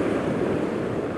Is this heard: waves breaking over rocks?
yes